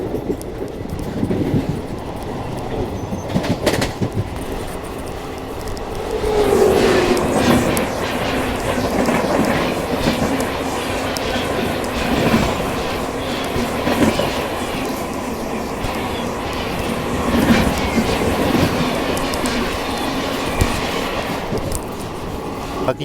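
A Delhi–Prayagraj special train runs along the tracks, heard from aboard as a steady loud rumble with rhythmic wheel clatter and occasional brief squeals, continuous throughout.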